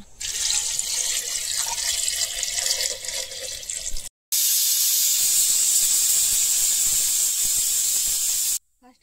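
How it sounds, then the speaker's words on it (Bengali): A pressure cooker boiling rajma dal with potatoes hisses loudly and steadily as steam escapes through its whistle, a sustained close rush that stops abruptly. "সিটি দিল"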